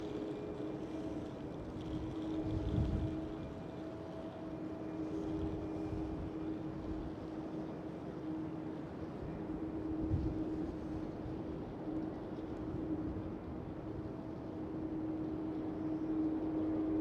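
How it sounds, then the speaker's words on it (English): A KLM Cityhopper Embraer E190 takes off at Schiphol, a distant, steady jet engine roar with a faint tonal hum that stays fairly even throughout, heard from afar. "A KLM Cityhopper E190 going for the takeoff as well here on 18 left."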